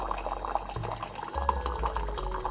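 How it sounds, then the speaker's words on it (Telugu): Hot water filling a drinking glass in a home kitchen in the morning, a continuous soft trickling pour with a faint rising tone as the glass fills, quiet and close. "ఇక్కడ హాట్ వాటర్ ఫిల్ చేసుకుంటున్నా."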